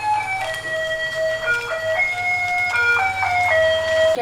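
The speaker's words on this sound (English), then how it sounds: "20 past 5 the bread van came around this morning" A bread delivery van's tinny electronic jingle plays a repeating melody loudly nearby in early morning in Sri Lanka, with the van's low engine humming underneath throughout.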